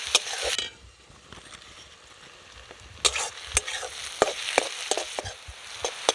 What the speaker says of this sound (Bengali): পেঁয়াজটা কিন্তু আমার লাল লাল ভাজা হয়ে গেছে,